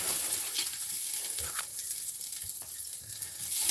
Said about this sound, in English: Do a little stirring.